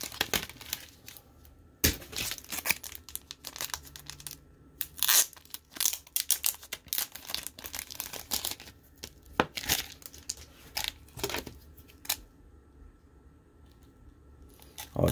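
Scotch tape peeled and torn off a mail package: repeated sharp ripping and crinkling bursts of tape and paper, close and irregular, with short pauses between pulls and no talking.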